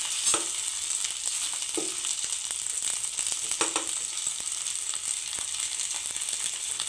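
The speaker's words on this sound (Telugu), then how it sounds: "మనం ముందే కట్ చేసి పెట్టుకున్న బెండకాయ ముక్కలు కూడా వేసుకొని ఫ్రై చేసుకోవాలి." Cut okra pieces fry in a pan for an okra curry, giving a steady close sizzle with scattered crackles and a few soft scraping stirs.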